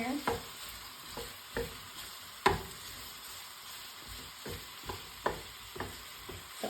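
Chicken korma cooks in a pan, a quiet low sizzle broken by repeated soft knocks and scrapes of a utensil stirring at irregular intervals, with no one speaking.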